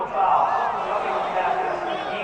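Stadium crowd reacting to a penalty call in Madden NFL 22, Jacksonville Jaguars vs New England Patriots: a loud, sustained roar of booing and shouting that swells at the start and holds steady.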